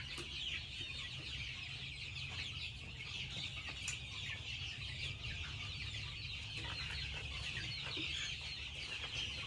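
Continuous soft clucking and high peeping from a flock of poultry chicks, steady and close, with no talking.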